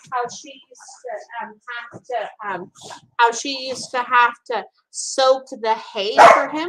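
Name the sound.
dogs barking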